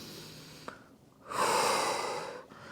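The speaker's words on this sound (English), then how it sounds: "Take a deep breath in" A single deep breath in, drawn slowly and close by during a side-lying hip exercise, rising to a full rush of air and then tapering off, with no talking.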